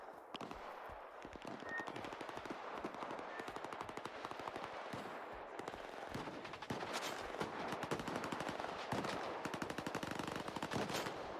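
Rapid bursts of automatic gunfire crackle through a firefight in the shooter game S.T.A.L.K.E.R. 2 around Zalissya, dense and continuous, with volleys growing heavier toward the end.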